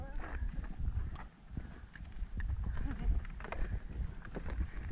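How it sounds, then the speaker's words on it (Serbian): Donkey hooves clopping on a rocky canyon path in Montenegro, a steady run of close, fairly loud hoof strikes with voices talking over them. "Evo nam je magarac prepriječio put."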